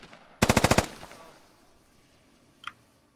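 A GPMG machine gun fires in the military shooter game Squad, one close, loud rapid burst of about seven rounds, followed by a single faint distant shot.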